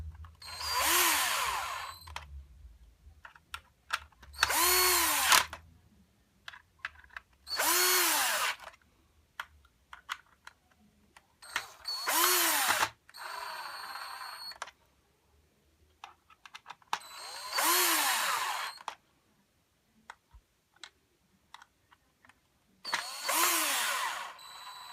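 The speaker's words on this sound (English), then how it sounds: "Make sure if you're using an electric screwdriver that you don't over tighten these" An electric screwdriver drives screws on a Dyson DC25 vacuum in six separate whirring bursts, each about two seconds long and spaced by short pauses, loud and close with no talking.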